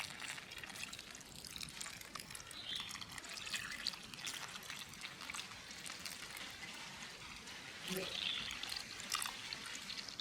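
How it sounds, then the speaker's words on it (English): Water poured by hand onto young potato plants growing in recycled plastic boxes on a balcony, a soft continuous splash and trickle with small drips, close by and fairly quiet throughout, swelling briefly toward the end. "I proceed to water them"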